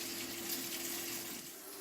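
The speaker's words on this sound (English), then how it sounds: "right now I'm going to wash my hands" Water runs steadily from a kitchen tap while hands are washed, a soft continuous splashing stream, fairly quiet and alone with no talking.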